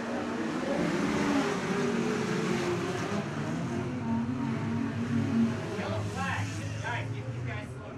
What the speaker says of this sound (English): Ryan Order, running seventh, spins into the infield on the front stretch